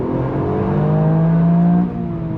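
Toyota GR Yaris rally-style road car being driven, its engine revving and climbing in pitch loudly from inside before easing off, with no talk.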